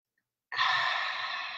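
A single long, deep exhale through the mouth during a slow breathing exercise, close and soft, beginning abruptly after a brief silence and trailing off gently.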